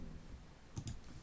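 Two quick, faint clicks of a computer keyboard key being pressed while drafting in Mastercam 2022 CAD/CAM software, close together in an otherwise quiet room.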